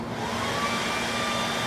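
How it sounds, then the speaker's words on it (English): A handheld hair dryer blows hair dry with a steady, even whoosh and a faint motor whine. The sound is constant and fairly close, and nobody speaks over it. "So now you take your dryer,"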